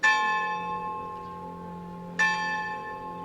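A church bell strikes twice, each loud ringing clang followed by a long shimmering decay, with the second stroke about two seconds after the first.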